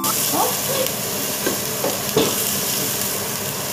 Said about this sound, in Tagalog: Gisa-gisa lang naman ito.